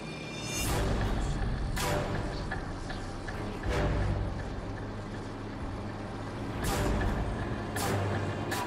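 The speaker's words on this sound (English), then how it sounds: "We're tracking an enemy convoy headed your way." An enemy vehicle convoy approaches in Call of Duty 4, with a steady heavy-engine rumble under sharp hissing bursts like air brakes that recur every second or two and stay loud and close throughout.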